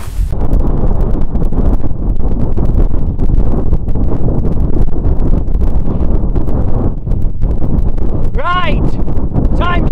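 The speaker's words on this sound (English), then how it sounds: "It's stopped raining, but it's very windy." Strong wind at a wild campsite buffets the microphone in a loud, continuous rumbling roar with gusty surges after rain, and a voice briefly speaks near the end.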